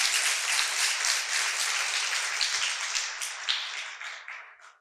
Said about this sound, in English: let's hear a round of applause for all 3 of our division winners